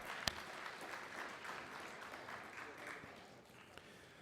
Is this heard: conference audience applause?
yes